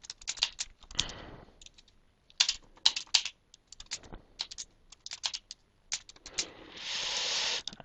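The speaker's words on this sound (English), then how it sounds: "If I was to type in some more text for my web page here" Bursts of typing on a computer keyboard, close and crisp clicks in uneven clusters with short pauses, ending in a steady hiss.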